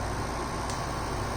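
A replacement air conditioner on a 2013 Aliner camper runs with a steady, faint, broadband whooshing hum, unchanging over a short moment.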